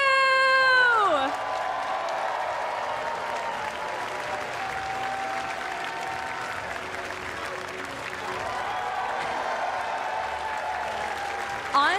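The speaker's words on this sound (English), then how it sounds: "give a round of applause and congratulations to your video game junior champion" A crowd applauds a junior champion at a Pokémon video game championship event, with broad clapping and cheering under a host's voice and bursts of crowd noise.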